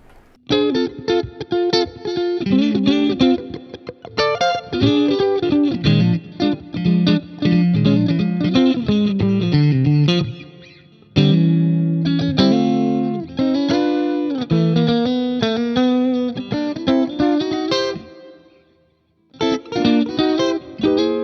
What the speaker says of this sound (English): let's have a look at what the Made in Mexico version of the Strat sounds like